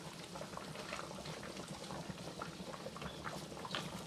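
Curry crab simmering in a pot of water, a steady low bubbling and soft patter that holds evenly throughout, close and fairly quiet with no talk.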